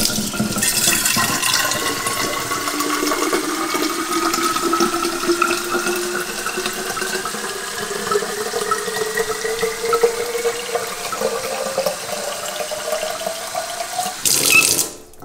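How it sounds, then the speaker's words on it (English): A stainless steel water bottle fills with cold water under a kitchen sink tap, a steady close rush whose pitch slowly rises as the vessel fills, ending with a brief louder splash, no voices. "I filled it up almost to the top, but just left some out just so I can go ahead and cap it"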